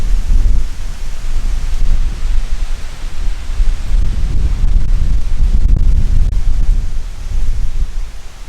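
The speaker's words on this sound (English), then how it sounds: "we got a good gust right now" Strong wind gusts outdoors batter a 12 ft Halloween skeleton display, a loud, continuous rushing roar with low rumbling buffets that swell and ease throughout, with no talking.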